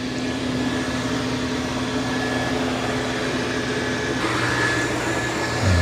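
A Dreame L10S Ultra robot vacuum runs with a steady, loud motor whir and a constant tonal hum, close by and unbroken, with a slight shift in pitch near the end.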